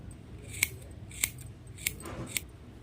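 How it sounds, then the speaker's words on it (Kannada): Scissors trimming beaded crochet tassel threads on a saree, with four crisp, evenly spaced snips heard close up against a quiet background. "ಈ ಥರ ಬಂದಾಗ ಟ್ರಿಮ್ ಮಾಡ್ಕೊಳ್ಳಿ."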